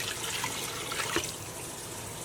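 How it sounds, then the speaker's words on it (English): Water poured from a tap into a pot of beef and bones for sancocho, a short steady splashing trickle heard up close with no talking. "And now I'm going to add water."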